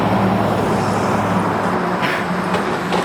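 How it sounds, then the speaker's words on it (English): A loud truck rumbles past on a nearby road, a steady, broad roar of engine and tire noise that fills the whole few seconds without letting up. "that's a pretty loud truck"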